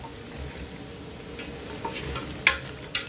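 Beef browning in a pot hisses and sizzles steadily while pilau masala is stirred in, with a few clacks and scrapes of the spoon toward the end.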